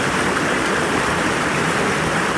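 Steady rushing water flows continuously, a dense full hiss with no pauses, close and fairly loud.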